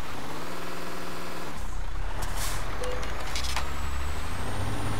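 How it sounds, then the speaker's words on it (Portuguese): In Euro Truck Simulator 2, a truck engine rumbles and then shuts down, followed by a short hiss of air brakes and a fading, steady low drone. "Tô desligando o caminhão"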